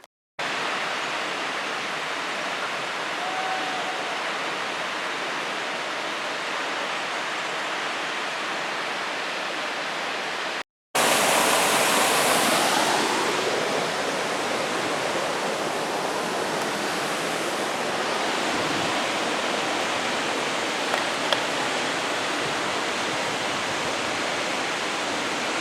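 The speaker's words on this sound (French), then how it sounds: "je suis arrivé à la cascade du Zud" Cascade du Zud waterfall in Morocco roars as a constant broadband wash of falling water, with a brief gap before it returns louder and closer, steady and unbroken.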